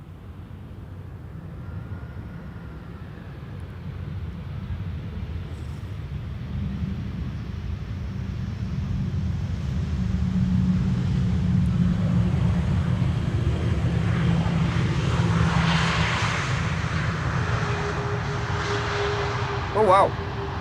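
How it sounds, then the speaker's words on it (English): A Croatia Airlines Airbus A319 jet arrives at Schiphol from Zagreb, a rising engine roar that builds and holds loud through the second half before a brief sharp knock at the end. "Next up, Croatia Airlines, flight 450, A319, arriving from Zagreb, the 9A CTL."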